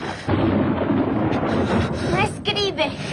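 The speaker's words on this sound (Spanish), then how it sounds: "Es la tormenta, ya sabes." A deep, sustained rumble of thunder rolls through a storm, loud and continuous across the clip, with a brief crackling burst near the end.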